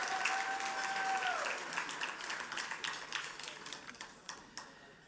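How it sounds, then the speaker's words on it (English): Audience applause at a charity gala for Prevent Blindness Georgia, a dense wash of many hands clapping that starts full and gradually thins into scattered individual claps, with a brief electronic tone at the start. "Please give a big round of applause to all these people for their generosity"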